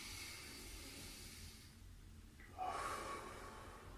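Deep breathing during a held post-workout stretch comes through as soft, close breaths, first a quiet airy stretch and then a sharper, louder exhale that lingers to the end.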